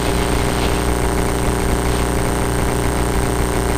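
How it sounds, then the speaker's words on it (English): A Rotax aircraft engine idles steadily, a constant loud low drone with a propeller-like throb, close and alone without talk. "At idle, it sounds almost like a real airplane."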